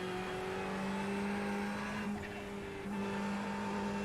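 A Ferrari 488 GT3 Evo race car in iRacing at Suzuka, its engine holding a steady high-pitched drone under throttle, with a brief lift and dip in pitch midway before pulling again, loud and continuous with no talk.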